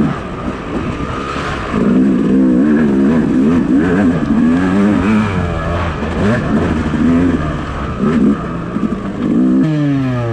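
A Yamaha YZ250 two-stroke dirt bike races at a Hillbilly GP event in Westphalia, Missouri, its engine loud and close, revving up and down through gear changes with rising and falling pitch.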